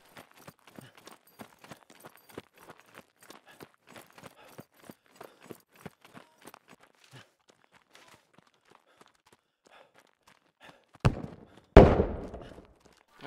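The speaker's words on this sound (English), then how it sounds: "Yep, those are explosions." Distant explosions in the military shooter game Squad, two heavy booms near the end following a long stretch of faint, rapid footstep-like clicks.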